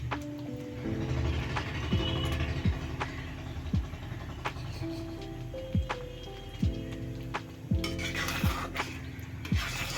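A spoon stirs spongy kasuri methi chicken in a pan, giving repeated scraping strokes and light metallic clinks against the pan over a low background sizzle.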